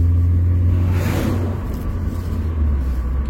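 A car with a manual gearbox and a slightly stiff clutch pulls away and accelerates up to about 50 km/h, shifting into fourth and then fifth. Its engine gives a loud, steady low rumble that swells and eases with the gear changes.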